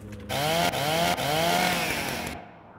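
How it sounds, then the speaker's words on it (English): A chainsaw in the video game DeathSpank revs up loudly and holds a steady buzzing drone with a couple of brief dips, then winds down and cuts off near the end. "so there's our amazing chainsaw"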